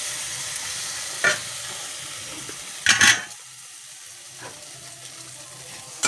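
Food sizzles steadily while frying in oil, with a few sharp scrapes and clatters of a utensil stirring in the pan, close by and without talking.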